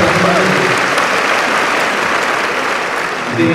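An audience gives loud, dense applause for university leaders, clapping steadily for several seconds with voices mixed in.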